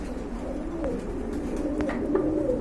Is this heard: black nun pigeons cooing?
yes